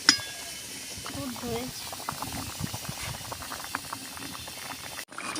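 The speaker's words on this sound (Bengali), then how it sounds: "ভালো করে ফুটবে।" Potato and egg curry bubbles and pops in a pot at a steady simmer, close by, with a faint voice in the background.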